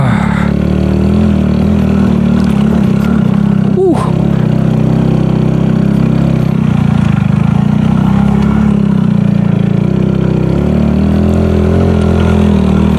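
A trail motorcycle ridden on a rough off-road track gives a loud, steady engine drone with slight throttle swells and a brief clatter midway, close and continuous, with no clear talk.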